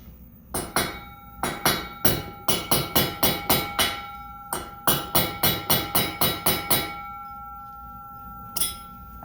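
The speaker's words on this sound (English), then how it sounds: "So I'm going to hammer those out." Sharp metallic hammer strikes ring out in quick bursts of several blows while hammering out roller pins on a Ski-Doo QRS secondary clutch, with brief pauses between groups and a lingering clink of metal.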